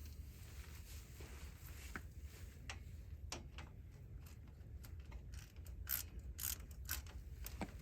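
Wheel hub bearing bolts being tightened on a Chevy Silverado, with faint, irregular ratchet clicks and small metallic ticks scattered over a low background hum.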